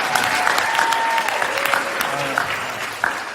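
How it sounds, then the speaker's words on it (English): Applause from an audience at a varsity sports gathering, a dense, fairly loud run of clapping that holds steady throughout, with a voice faintly mixed in. "You should be applauding for"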